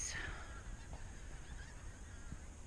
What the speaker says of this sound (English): Oh, the geese are coming over again.